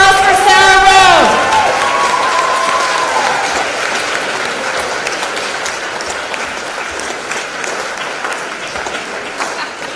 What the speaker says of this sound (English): Let's have a big round of applause for Sarah Rowe.